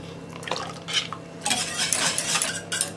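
Gravy mix with sugar being stirred together in a pot, utensil clinks and scrapes against the metal with wet sloshing, close and busy in short bursts, no talking.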